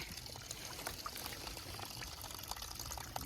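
Water from a partly frozen spring trickles and splashes steadily nearby, a continuous pouring wash with no speech, beside a hiking trail in winter.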